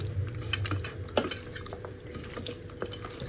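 Chicken pieces being stirred by hand with salt and turmeric for marinating, giving a soft, steady wet scraping and occasional utensil clinks against a bowl, close by and low in level with no talking.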